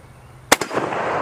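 A single sharp, loud gunshot fires Tulammo steel-case Berdan-primed ammunition outdoors at a range, with a short echoing tail and continuing outdoor noise after the shot.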